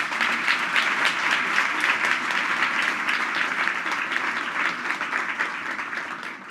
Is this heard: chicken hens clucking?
no